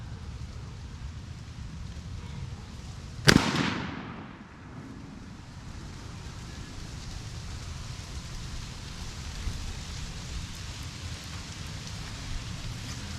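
A rifle fitted with a Vortex Strike Eagle 1-8 scope fires one sharp, loud shot outdoors while being sighted in. The report echoes briefly over a steady background hiss.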